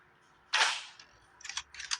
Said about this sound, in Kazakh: біздің пистолетіміз бар